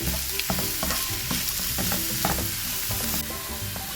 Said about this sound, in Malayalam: ശേഷം നമുക്ക് ബീറ്റ്റൂട്ടിൻ്റെ മിക്സ് ഇട്ട് കൊടുക്കാം. നമുക്ക് നന്നായി മിക്സ് ചെയ്ത് കൊടുക്കാം.